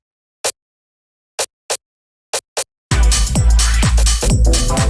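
Funky deep house percussion sample: five short, sharp hits spaced irregularly in silence, followed by the full track with kick, bass and layered percussion playing loudly.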